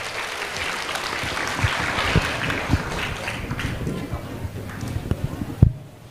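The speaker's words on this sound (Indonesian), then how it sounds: "Beri tepuk tangan yang meriah." At an Indonesian public talk with civil servants in Depok, the crowd applauds to welcome the moderator, a steady wash of clapping with a few sharper claps standing out, ending abruptly.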